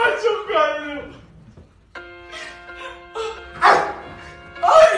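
Dog barking in short bursts of harmonic yelps, close and fairly loud, with pauses between, alongside a tonal whining quality; no speech over it.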